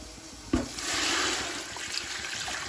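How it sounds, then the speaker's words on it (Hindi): Water poured into a pot for Delhi-style paya curry, a brief splash at the start giving way to a steady, fairly close trickle and rush of liquid, with no talking. "और अब हम डाल देते हैं पानी"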